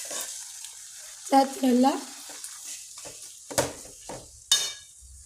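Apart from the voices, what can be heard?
fish roe frying and being stirred in a pan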